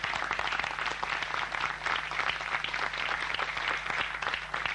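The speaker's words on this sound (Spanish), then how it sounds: "Fuerte aplauso para él." Audience at a tango tribute evening applauds steadily, with dense, even clapping across the room that holds at a moderate level throughout and no pauses.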